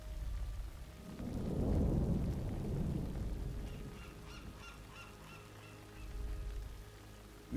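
A fierce storm on the open sea in Warcraft III Reforged: a deep thunder rumble swells and slowly fades under steady rain hiss, with a second low roll near the end and no voices.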